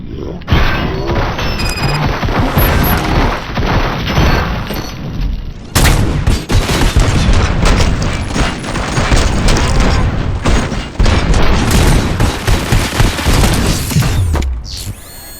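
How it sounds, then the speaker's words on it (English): Sustained gunfire and booming explosions from the video game RoboCop: Rogue City, loud and continuous for most of the stretch with crashes and heavy impacts, voices briefly heard among the shooting. "We must smash that thing. Fire at will."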